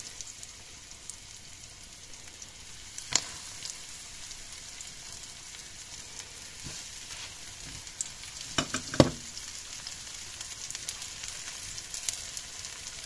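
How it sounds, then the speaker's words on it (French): Kotlety ruskie, small Polish potato patties, fry in a pan of very hot oil with a steady, quiet crackling sizzle. Occasional louder pops stand out, and nobody speaks. "dans une poêle huilée avec de l'huile bien chaude, je vais frire mes petites galettes"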